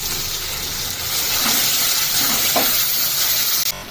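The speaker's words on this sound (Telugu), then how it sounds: "ఇంకా అల్లం వెల్లుల్లి పేస్ట్ పసుపు వేసుకొని కొంచెం ఒక టూ మినిట్స్ వేగనివ్వాలి" Ginger garlic paste and turmeric fry in hot oil in a pan, giving a loud, steady hiss and sizzle that holds throughout, close up with no talking.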